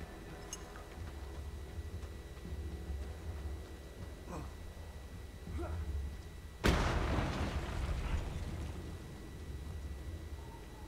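A single explosion in the Mad Max video game, a sudden loud boom that breaks over low engine rumble and decays into a rough roar for several seconds.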